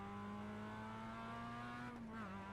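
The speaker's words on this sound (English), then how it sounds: "Ah, the wonderful, wonderful, slow Mazda Miata" A Mazda Miata engine drones steadily on a racetrack in a video game, a loud sustained tone that holds nearly level before dipping slightly near the end, with faint tire noise underneath.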